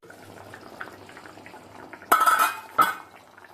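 Masala being stirred into a simmering bottle gourd egg curry in a pan, two sharp metallic spoon scrapes and clinks over a quiet bubbling background, close with no talk.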